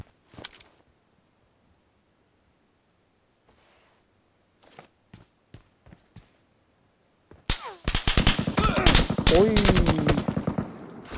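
Gunfire fills a Metro Royale video game match: a few scattered shots at first, then a long loud burst of rapid automatic fire, with voices chattering faintly in between.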